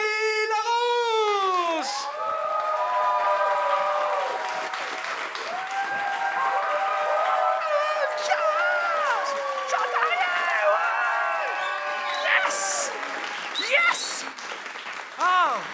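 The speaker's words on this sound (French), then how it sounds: "veuillez faire un tonnerre d'applaudissements pour votre maître du jeu, Jérémy" An audience at a comedy festival show cheers and applauds their game master, with clapping running under excited shouts and whoops, while a voice on stage calls out loudly over the noise.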